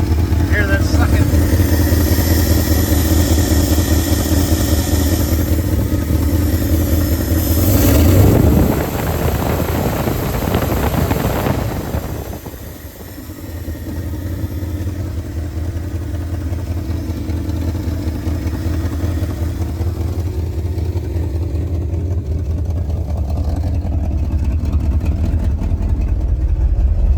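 A 1971 Ford F250 engine idles steadily with a low, even rumble and a faint sucking sound. A rushing gust passes midway and the idle continues loud and close under intermittent talk.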